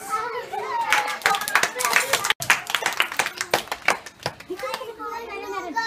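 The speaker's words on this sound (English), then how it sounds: "Claps!" Children clapping at a summer camp magic show, a lively burst of close, uneven hand claps mixed with excited kids' voices and chatter that runs through most of the moment.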